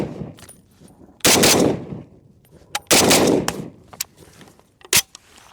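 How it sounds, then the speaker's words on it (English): An FAL rifle fires double taps outdoors, loud paired cracks in two bursts followed by a single shot, with ringing echoes between. "Shoot some double taps."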